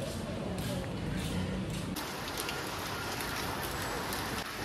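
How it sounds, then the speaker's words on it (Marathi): Heavy downpour near a temple fair stall, a dense close hiss of rain pelting surfaces throughout, with a voice speaking over it. "आता नुसता धो पाऊस पडतोय"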